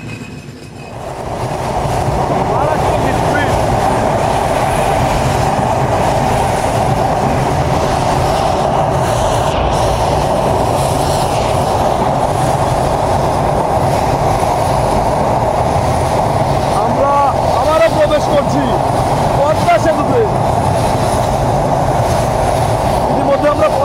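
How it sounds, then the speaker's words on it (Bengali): A train rolls into Faridpur railway station with a loud, steady rumble of wheels and carriages, faint clicks and squeals over the top, and some voices audible beneath the noise. "আমরা ইতিমধ্যে প্রবেশ করেছি ফরিদপুর রেলওয়ে স্টেশনে"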